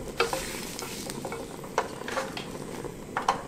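Buckwheat noodle kimchi pancake cooking in a lightly oiled pan, with a steady soft sizzle and a few light clinks of a utensil against the pan; no voices.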